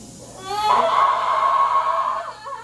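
A woman screams loudly during unmedicated labor for a VBAC birth, one sustained, high, strained cry lasting well over a second, close to the microphone and heard alone without talk.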